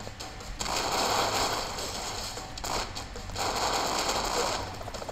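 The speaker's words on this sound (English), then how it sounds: "There's a lot of explosions." Explosions and gunfire in the Broforce action video game, a dense, loud crackling roar that swells in two long bursts with a brief dip between them, with no voices.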